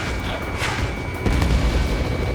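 A missile strikes an enemy target in the combat flight game Ace Combat 7, giving a short low boom that swells after a faint whoosh and rumbles on briefly, no voices.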